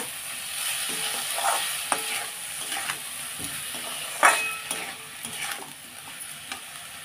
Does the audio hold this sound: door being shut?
no